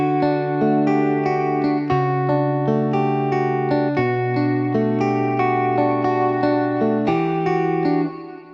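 Clean electric guitar treated with plate reverb and light wow and warp, playing a slow sequence of ringing chords that sustain into a soft reverberant tail, with no talk.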